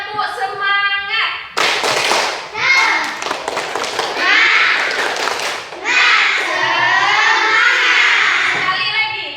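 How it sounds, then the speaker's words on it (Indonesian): Primary-school pupils in an Indonesian classroom do a patterned 'tepuk semangat' spirit clap on their teacher's cue: sharp bursts of group clapping alternate with loud children's chanting and shouting, close and lively. "Kalau begitu ibu minta tepuk semangat ya, 2 kali."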